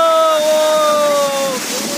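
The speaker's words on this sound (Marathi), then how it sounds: "हा बघा धबधबा किती उंचावरून पडतोय" Birthi Falls in Munsiyari, Uttarakhand, pours from a height with a steady, fairly loud broadband rush of water, overlaid by a faint sustained tonal voice or whistle.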